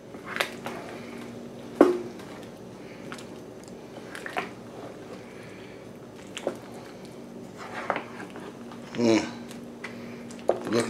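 Neck bone etouffee being stirred in a pot, with a few scattered clanks and scrapes of a spoon against the pot over a low kitchen background, one louder scrape near the end.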